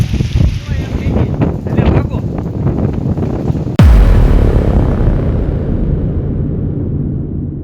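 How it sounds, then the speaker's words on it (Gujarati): Strong wind from a windstorm blows through a village, roaring buffets hitting the microphone with a sudden loud gust burst midway, while someone talks over it. "અત્યારે વાવાઝોડું આવી ગયું છે અમારા ગામમાં"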